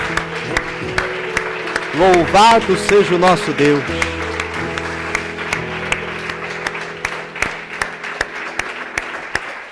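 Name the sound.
congregation applauding loudly for Jesus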